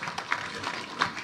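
A crowd claps for Philip at a funeral send-off for Mzee Jackson Kibor, a steady patter of many hands across the whole short stretch, with a couple of sharper bursts.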